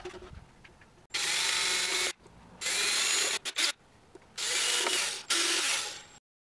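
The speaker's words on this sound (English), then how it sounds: "At the back of the unit, I'm going to drill two holes." Power drill boring holes through the back of a project box, several loud bursts of whirring separated by short pauses, close and with no talk.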